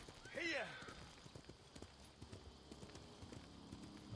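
Steady hoof clip-clops thud along with a brief horse whinny near the start, set in a quiet Ghost of Tsushima game ambience with faint background tones.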